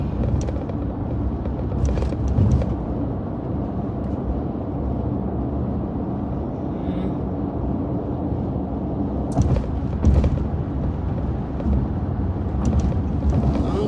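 Car cruising along a wide freeway, a steady close rumble of road and wind noise throughout with a few brief knocks and no talking.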